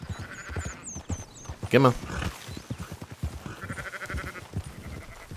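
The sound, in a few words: sheep bleating in video game Red Dead Redemption 2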